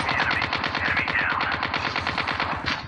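Sustained automatic gunfire rattles in a parachute-drop battle royale game, a dense rapid burst of shots close and loud for the whole stretch, with no voices over it.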